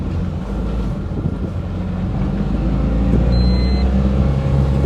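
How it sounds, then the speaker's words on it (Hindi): A used pickup truck in first and second gear is heard from inside the cab, giving a steady low engine drone and road rumble at a continuous level with no talking. "क्लच लगा लिया मैंने, पहला गियर मैंने ले लिया है।"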